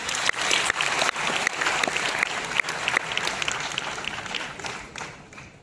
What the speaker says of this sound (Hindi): अब अपने लिए जोरदार तालियां बजा दीजिए।